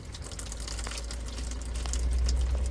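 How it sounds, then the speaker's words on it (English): Seawater gushes into a C&C 39 sailboat through a rotted-out sink drain and through-hull, making a steady, close rushing and trickling flow that swells slightly toward the end. "this sink drain has rotted out. And there's the ocean coming in the boat."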